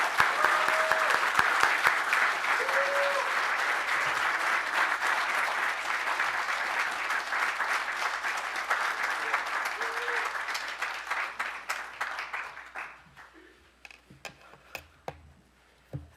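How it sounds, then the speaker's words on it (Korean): A church congregation applauds to welcome a new pastor at an installation service, a full, steady clapping that gradually thins out and dies away to scattered single claps, with brief tonal sounds early on. "우리 큰 박수로 환영하겠습니다."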